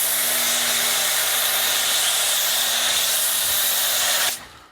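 A single pressure washer fitted with a smaller orifice sprays steadily during a night car wash of an E36 M3, a loud continuous broadband hiss that holds for about four seconds, then cuts off abruptly.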